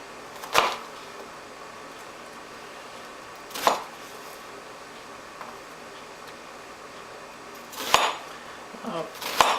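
A knife chops an onion into cubes on a board for a rice casserole, giving four sharp, separate thuds spaced a few seconds apart under low background noise.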